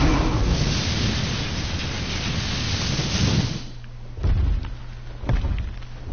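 In ARK on PS4, a wyvern's lightning breath crackles out as a loud sustained roaring rush that cuts off, leaving a quieter tail with a few dull thumps.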